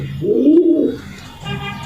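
Racing pigeons at a pigeon sale give a low, throaty coo that swells for about a second, then a softer second coo follows close by, with no one speaking.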